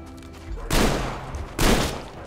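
Two loud, close gunfire bursts ring out about a second apart in the video game Metro Exodus, each a sharp blast that decays into echo.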